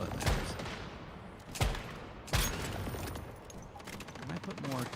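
Enemy gunfire in the video game Once Human, with three sharp shots standing out over a constant rattling fusillade and background game noise, while a voice talks intermittently underneath.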